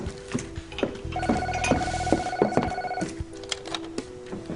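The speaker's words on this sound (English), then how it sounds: "Hey, Diana, will you do me a favor and get that phone?" A telephone rings in an indoor setting for about two seconds, with a steady electronic bell tone and a few sharp clicks around it, at moderate volume.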